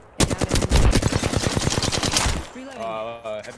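A long burst of rapid automatic gunfire rings out in the video game Apex Legends, loud and close, followed by a brief pause and then a player speaking.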